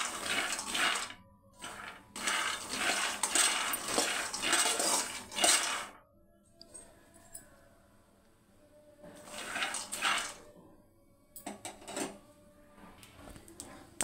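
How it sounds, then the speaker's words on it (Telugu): Peanuts are stirred and roasted in a metal pan over a high flame, giving bursts of dry rattling and scraping with short pauses between rounds of stirring. "పల్లీలని అటు ఇటు కలుపుకుంటూ హై ఫ్లేమ్లో పెట్టి"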